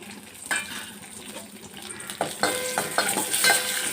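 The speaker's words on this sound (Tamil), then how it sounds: "ஜீரகம் வத்தல் கொஞ்சம் கருவேப்பிலை இதை போட்டு தாளித்து நம்ம அதை கொட்டிடலாம்" Cumin, dried red chilies and curry leaves sizzle in hot oil for a tempering, with a steady crackling fry broken by a few louder spits and a spoon stirring against the pan, close and clear.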